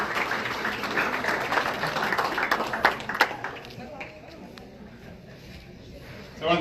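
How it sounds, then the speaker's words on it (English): An audience at a golf tournament awards luncheon applauds and cheers committee members, a burst of clapping that fades to scattered claps while someone talks over it. "Come on, they're cheering, they're clapping."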